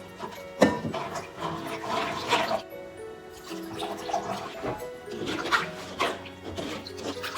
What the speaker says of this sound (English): so I'm going to rinse it in cold water